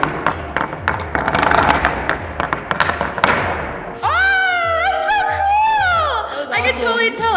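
A slowstones domino chain topples with a quick run of clicking, clattering taps that lasts about four seconds. Lively voices follow right after.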